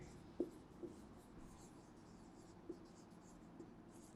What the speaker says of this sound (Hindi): तो मैं यहां पर नाम लिख देता हूं ऐसे